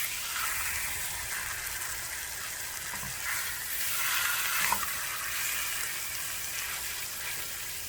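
A porterhouse steak sears in a hot pan, giving a loud, continuous sizzle and crackle up close that swells slightly midway, with no talking.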